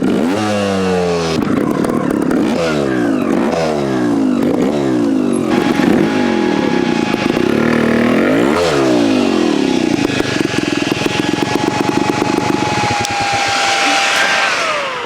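A Vertigo Nitro JBR 300 two-stroke trials bike, started cold, runs loud and close: a rasping engine blipped through repeated sharp revs that rise and fall, then settles into a steady, buzzing idle, with no talk over it.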